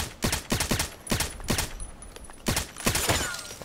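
Repeated bursts of gunfire in the online shooter Contract Wars, sharp cracks fired in quick clusters with brief pauses between them, fairly close and steady throughout with no talking.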